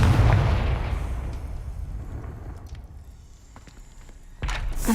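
A Confringo blasting-spell explosion in the game Hogwarts Legacy, opening with a loud heavy boom that decays into a rumbling tail, followed by a second thud near the end.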